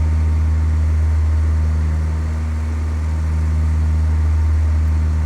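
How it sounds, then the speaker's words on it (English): A light airplane's piston engine drones steadily in flight, a loud constant low hum with a firm tonal rumble and no variation, heard from inside the cabin without talk. "we'll look outside of the airplane and we'll listen to that engine too"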